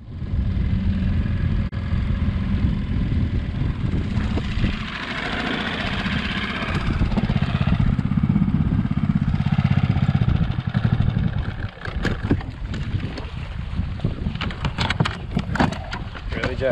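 A Bass Raider boat's outboard engine drones continuously at a steady idle-like pitch, close and fairly loud, with some wind and water noise over it throughout.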